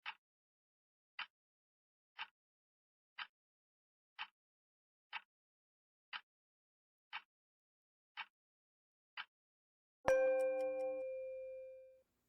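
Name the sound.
bell marking the start or end of a yoga pose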